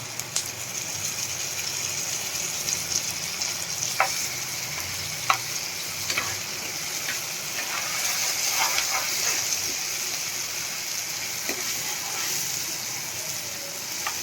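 Okra (bhindi) fries in oil in a pan with a steady, close sizzle. Occasional light clicks of a stirring spoon sound over the hiss, and no one speaks.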